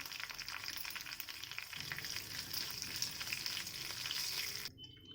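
Mustard seeds, urad dal, green chilli and curry leaves crackle and sizzle steadily in hot oil in a kadai, a dense continuous hiss that cuts off abruptly near the end.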